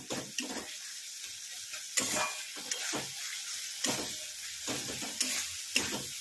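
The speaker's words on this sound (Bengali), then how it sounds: "আগে একটু মশলাটা কষিয়ে নিই" Bengali spice paste sautéing in a pan, a steady sizzle broken by regular sharp scraping strokes of a spatula, close and clear with no voices.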